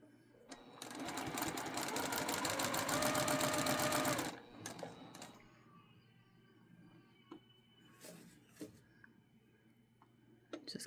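A sewing machine stitches a quilt seam while mitering corners: a loud, fast, steady run of needle strokes for about four seconds, then quiet handling sounds and a few faint clicks.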